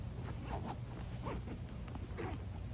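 A zipper is drawn open in several short scratchy pulls, close up, with no talking.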